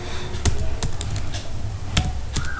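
Typing on a computer keyboard: a few quick, close key taps with short gaps between them, crisp and fairly loud, with no talking over them.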